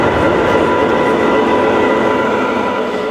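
Trains run at a toy and train show, giving a loud, steady rumble with a continuous hum and no break for the whole short stretch.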